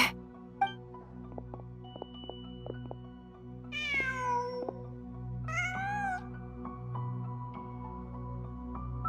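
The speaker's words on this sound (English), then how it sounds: "Just a cat." A cat in the video game Genshin Impact gives two drawn-out, wavering meows a couple of seconds apart, set over a quiet game soundtrack with soft ticks and clicks.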